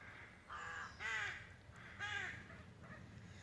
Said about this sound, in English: There are many crows up there, and you see the nesters, and they make all kinds of noises